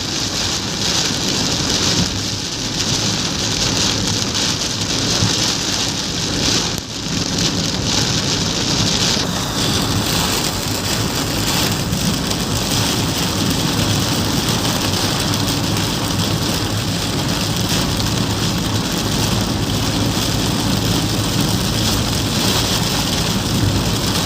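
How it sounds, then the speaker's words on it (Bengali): Heavy rain pouring steadily through the night, a dense, unbroken roar of downpour at close range with no voices. "কড়া বৃষ্টি"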